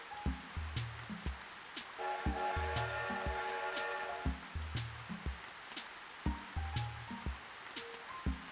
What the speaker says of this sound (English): It's been a while since I've actually seen the train go by like that.